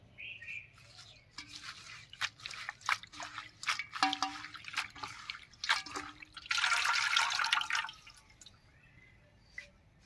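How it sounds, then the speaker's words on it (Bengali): Kulekhara greens are rinsed by hand under running water, producing close irregular drips, splashes and trickles with a short burst of pouring water near the middle. "প্রথমে শাকগুলো ধুয়ে নিচ্ছি।"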